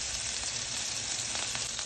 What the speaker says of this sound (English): So I'm going to give it a gentle fry on both sides for 3 minutes.